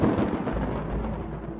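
A low, continuous rumble of thunder from a thunderstorm rolls on steadily, loud at first and then easing slightly toward the end, with no voices.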